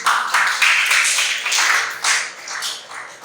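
Students at a philosophy lecture session clap together in a brief, uneven round, the claps blending into a steady patter at moderate loudness.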